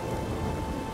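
Steady rain pours in the video game The Witcher III, a dense continuous hiss with a low rumbling undertone like distant thunder, loud and unbroken with no voices.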